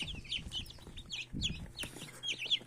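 Young chicks warming under a heat lamp peep in quick, high, scattered chirps, fairly close and moderately loud, with a low hum and occasional soft bumps beneath.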